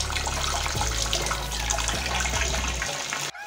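Water gushes into the drum of a Whirlpool fully automatic washing machine during home servicing, a loud, continuous close rush that cuts off abruptly near the end.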